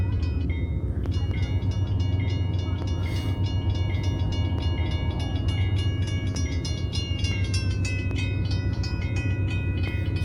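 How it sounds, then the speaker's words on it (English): Freight train of tank cars rolling over a railway bridge, a loud, steady rumble with rhythmic clatter and a sustained metallic whine running throughout. "that train bridge up ahead, where those tank cars going through"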